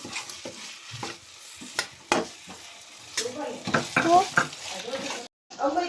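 Ginger and mawa roast in ghee in a pan, with a soft sizzle and a few sharp spoon scrapes and taps close by, alone with no voices.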